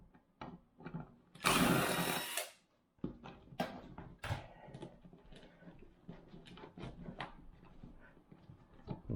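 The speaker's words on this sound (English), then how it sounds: "I'm just going to take my driver and pull the screws all the way out of it." A driver pulls screws out of a floating junction box, giving a loud close whir near the start, then scattered clicks, taps and ratcheting knocks as the work continues.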